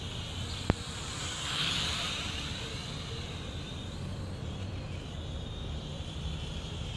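A Jumpbo Q08 radio-controlled airplane making a full-pitch speed pass, heard as a faint high motor whine that swells as it passes, then fades into distant wind-like hiss; a brief sharp click comes early.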